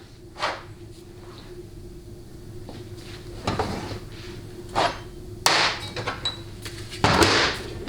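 Several sharp, close metallic hammer blows on a narrow drift, knocking out the front bushing of a 700R4 transmission reverse input drum, struck at irregular intervals with quiet pauses between hits.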